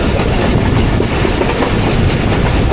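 Thall Express passenger train running along the track at slow speed, with a steady, loud rumble and clatter of carriage wheels throughout and no voices.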